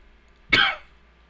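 One sharp, close adult cough bursts out alone and fades quickly against near silence.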